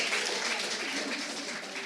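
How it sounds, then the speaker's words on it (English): A live studio audience gives sustained applause for three finalists, a steady dense wash of clapping that holds for the full two seconds at moderate distance, with no speech over it. "can I get a round of applause for all of our 3 finalists?"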